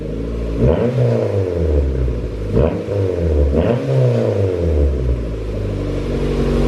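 An Acura Integra engine revs repeatedly, climbing and falling in three or four strong pulls from a deep rumbling idle, loud and close with no talk.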